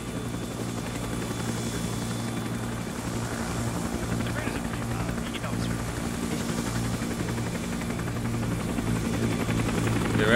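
Helicopter flown by an AI pilot in the video game Arma 3, its rotor thumping in a loud, steady drone throughout, with a voice talking over it.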